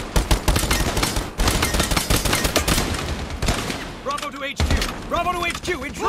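Gunfire in the video game Lost Light, dense and loud with rapid automatic bursts and single shots, followed by quieter moments and game sound effects, with voices speaking in places.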